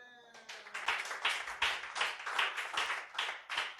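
Church congregation applauding, rhythmic clapping in a steady beat that starts abruptly and continues throughout, close and lively, with a faint voice at the start.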